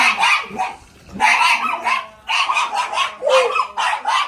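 A dog barks repeatedly at close range in short bursts, with brief pauses between volleys.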